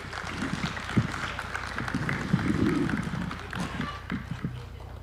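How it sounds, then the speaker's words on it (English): Audience at a State House contract signing ceremony applauding, a moderate, somewhat distant spread of clapping with crowd murmur and occasional voices underneath. "Another round of applause for His Excellency."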